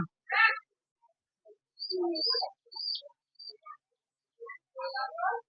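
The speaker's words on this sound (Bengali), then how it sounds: "এ হচ্ছে কবুতরটা।" Scattered racing pigeon calls, short chirps and soft cooing notes, come in a few separate bursts with quiet gaps between them, fairly close by.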